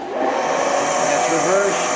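A Hammond 1 HP chip breaker and wheel cup grinder, model CBW-6, runs in reverse with a loud, steady motor hum and whir that holds constant throughout.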